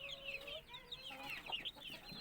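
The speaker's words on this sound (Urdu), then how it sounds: "دوستو یہ چوزہ دیکھیں" A young chick, one of a hen's brood of five or six, cheeps in faint, rapid, high-pitched peeps that repeat throughout, with no voices.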